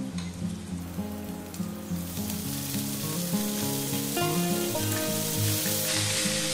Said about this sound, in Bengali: এবার আমি শাকগুলো দিয়ে দেব